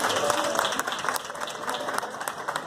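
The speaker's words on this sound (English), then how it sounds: "Please give him a round of applause." Steady, dense applause fills a science show hall in Sturgis Falls as an audience claps continuously and fairly loudly throughout, with faint crowd voices mixed in.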